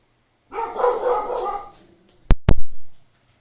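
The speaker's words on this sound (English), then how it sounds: "Sorry, the dog started barking." A dog gives two sharp, loud barks close by, right after a stretch of indoor conversation, then stops.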